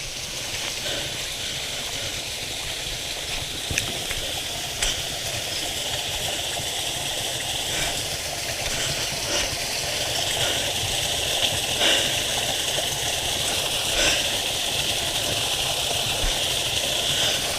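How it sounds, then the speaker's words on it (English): Small waterfall in autumn woodland on Exmoor, a steady broadband rush of falling water that holds at one level for the whole stretch, with faint ticks and a few louder splashes breaking through now and then. "It's a little waterfall."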